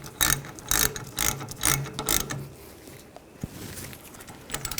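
A ratchet clicks in several quick bursts while tightening a rear brake hose fitting into the caliper on a 2014-2018 GMC Sierra 1500, loud and close, then tails off into quieter shop noise.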